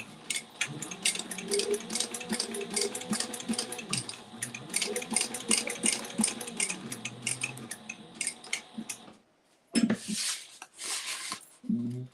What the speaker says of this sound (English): I just oiled my machine. It is running so nicely right now.